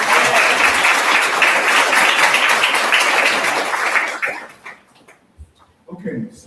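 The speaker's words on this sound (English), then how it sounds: "Give a round of applause to Jasiri's friends." An audience at a celebration of life breaks into loud, dense applause that carries for about four seconds and then tapers off into scattered claps, followed by a few voices.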